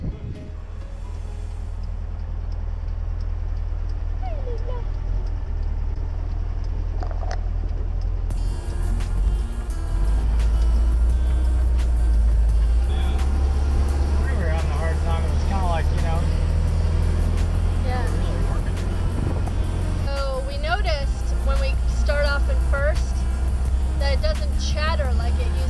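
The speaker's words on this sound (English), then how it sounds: "The engine's running." VW bus engine idling with a steady low rumble throughout, rising slightly at points, while people talk over it.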